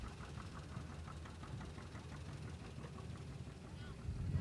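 A John Deere AR standard tractor chugs past in a threshing-show parade, its engine knocking steadily and fairly close, growing a little louder toward the end.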